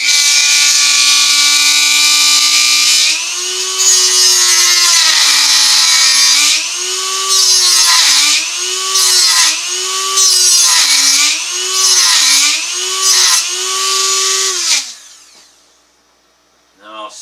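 A rotary tool spins a reinforced cutoff wheel through metal on a boot jack, a steady high whine whose pitch dips and recovers in rhythmic pulses as the wheel bites, then winds down and stops near the end.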